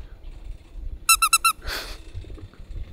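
A bird gives a quick run of four high, squeaky chirps in a tight burst, followed by a breathy rustle, set against a quiet, low background.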